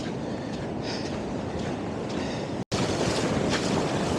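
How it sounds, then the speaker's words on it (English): An ocean wave surging over a beach campsite at high tide in strong wind, a steady broadband rush of water and wind that cuts out for a split second and then returns louder. "Okay, well, we just got hit by a wave."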